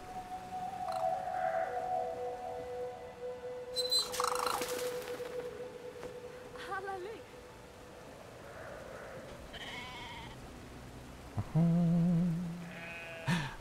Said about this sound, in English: I think they're meant to be sheep, aren't they? But they're like squished fat llamas.